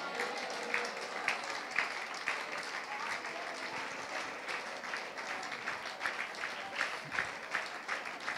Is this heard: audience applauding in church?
yes